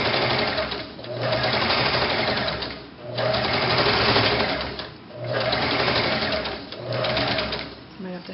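A sewing machine stitches a boutique ruffle onto a pair of denim pants, whirring in long continuous runs broken by three brief pauses, loud and close.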